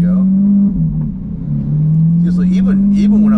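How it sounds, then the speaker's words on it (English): A Lamborghini Aventador S's V12 accelerates with a loud, close, low humming drone that dips briefly and then climbs steadily in pitch, while a person talks over it. "I just love the low frequency hum of the engine of the V12"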